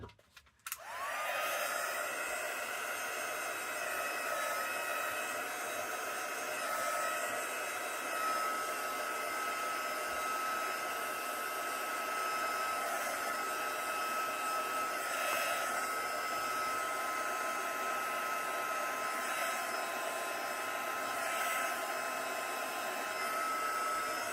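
A hair dryer or heat tool blows steadily over inked craft paper, a loud continuous whirring drone that switches on at the start and runs unbroken with no talking.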